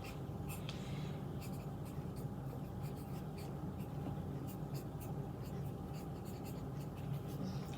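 A pen writes on paper in steady, scratchy strokes, close and continuous through a constant low background hum.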